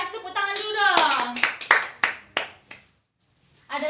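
A small group in a classroom lesson claps hands in a short burst of about six sharp, slightly uneven claps. A woman's speech comes just before, then a brief silence, then more talk.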